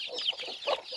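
Local chickens on a poultry farm cluck in short, close bursts, several hens overlapping in a quiet yard.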